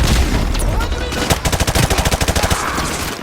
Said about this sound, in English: We are taking heavy fire from the school!